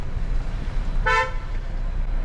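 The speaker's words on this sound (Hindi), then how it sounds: "मैं थोड़ा सा ही हॉर्न देता हूँ, ज़्यादा नहीं," One brief car horn honk rings out clearly over a constant rumble of heavy road traffic on a narrow road in India.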